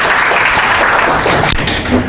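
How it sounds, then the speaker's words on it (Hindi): Loud, dense audience applause greeting a speaker at a scholarship trust event in India, a continuous close wash of clapping with no voices over it. "ज़ोरदार तालियों से स्वागत करें"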